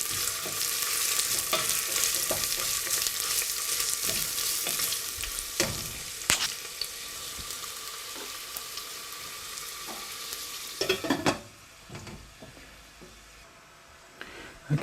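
One sliced medium onion sizzles steadily in a hot pan, a dense continuous frying hiss with occasional sharp clicks of stirring, quieting toward the end as the sizzle settles.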